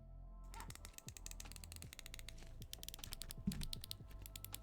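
Rapid clicks of buttons and triggers being pressed on a custom PS5 controller fitted with clicky triggers, a dense irregular stream of sharp, close taps with no talking.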